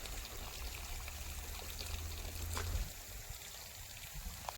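In a farm field, well water pours and trickles as a farmer drinks, a faint, steady splashing stream that swells slightly before easing off.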